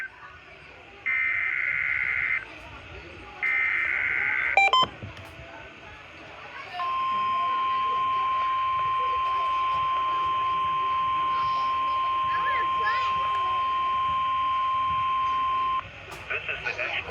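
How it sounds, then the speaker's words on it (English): NOAA weather radio test alert: two short bursts of warbling SAME data tones, then a long, steady, piercing alert tone lasting around nine seconds. "The tones you just heard were a test of the specific area message encoding and tone alert systems."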